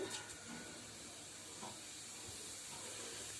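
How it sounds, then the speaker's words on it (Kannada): Mustard and cumin seeds splutter in hot oil, a steady, quiet frying hiss with faint scattered crackles throughout and no voices. "ಸಾಸಿವೆ ಜೀರಿಗೆ ಎಣ್ಣೆಯಲ್ಲಿ ಚಟಪಟ ಸಿಡಿದ ಮೇಲೆ"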